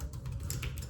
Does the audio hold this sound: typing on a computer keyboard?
yes